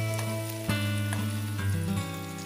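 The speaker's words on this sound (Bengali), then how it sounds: "আমি আরেক পিঠ একটু লাল করে ভেজে নেব" Pointed gourd pieces fry in oil for a curd-based potol dish, giving a steady close sizzle that runs throughout beneath a sustained droning tonal background.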